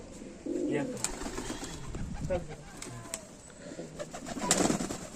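Pigeons, including a female and Saharanpuri and Madras breeds, coo in repeated low, throaty bursts close by, with other muffled sounds and possible voices in the background.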